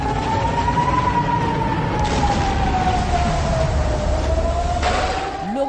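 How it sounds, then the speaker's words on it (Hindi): Air raid sirens wail continuously across cities in Israel, pitch sliding slowly up and down, loud and steady against a dense background rumble. "कई शहरों में सायरन गूंजते रहे।"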